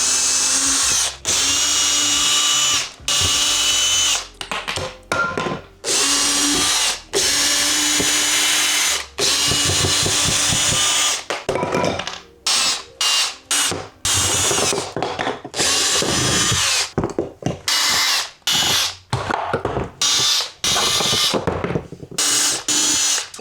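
Power drill driving a screw into the aluminum wall of an Airstream trailer, the screw spinning without biting; loud, close, long whirring bursts broken by short pauses and ratcheting stutters.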